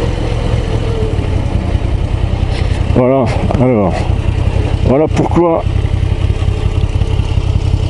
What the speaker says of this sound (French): le bruit du moteur